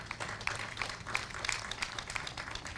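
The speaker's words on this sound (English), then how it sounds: "May all the elders clap for the students." Elders at a Corpus Christi Mass clap for the students, a steady, moderately loud patter of many hands with a few sharper individual claps standing out across the short stretch.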